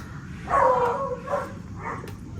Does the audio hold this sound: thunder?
no